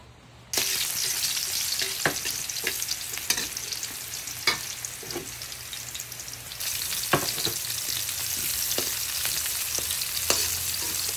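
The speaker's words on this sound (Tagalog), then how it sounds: "nagigisa na ako ng bawang sibuyas" Garlic and onion sautéing in a pan, a steady sizzle with occasional scraping stir clicks; the frying jumps in loudness near the start and again midway.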